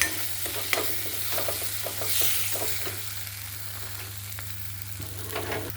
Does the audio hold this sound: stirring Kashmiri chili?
yes